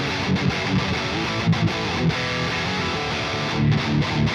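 Metalcore riff on electric guitar through a Bogren Marshall amp simulator, a thick, heavily distorted tone played continuously with chugging palm-muted accents, loud and alone.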